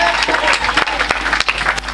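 A church convention crowd applauds in a dense, fast patter of clapping, acclaiming Jesus Christ, with voices mixed into the noise.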